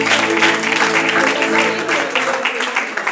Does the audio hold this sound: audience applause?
yes